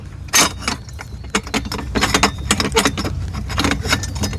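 A small pin is worked out of the foot plate of a trailer jack, giving a run of close metallic clinks, rattles and scrapes of irregular rhythm with no talk.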